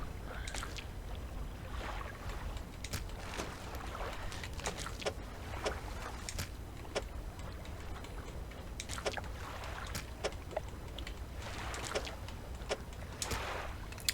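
A fishing boat's engine in the video game Dredge, cruising on icy northern waters. It gives a steady, close droning rumble with scattered creaks and splashy clicks throughout, and no voices.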